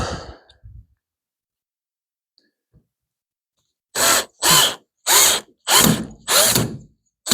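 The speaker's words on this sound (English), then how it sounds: "I think I can drive the screw at a slight angle." A screw is driven into a weatherstrip mount on a Plymouth Duster Mopar A-body: after a quiet stretch, six loud, even bursts of a power driver run in quick succession, each a second or less, with no talking.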